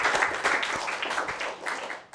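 Crowd at a New York music-tech meetup applauds after a demo, a thick, continuous wash of many hands clapping at steady volume throughout.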